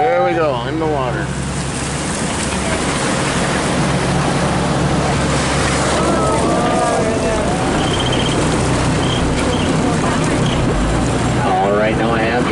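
An amphibious Wisconsin Duck boat rolls into Pacific Ocean water, a steady loud engine rumble with rushing water and waves carrying on throughout, while voices talk over it.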